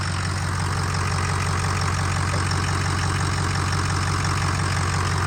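A built 6.0 Powerstroke diesel engine idles steadily and loud up close, with a constant low rumble and faint ticking knock running through the whole stretch.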